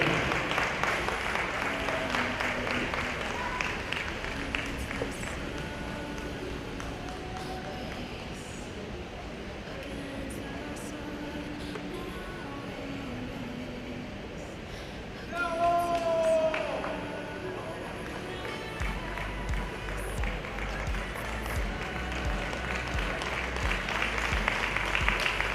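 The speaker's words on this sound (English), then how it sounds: "Let's hear a big round of applause, folks, for a great ride from Great Britain." A track cycling crowd at a Masters event applauds a British scratch race gold medallist, sustained clapping and cheering spread across the venue, with an announcer talking over it and a brief louder swell midway.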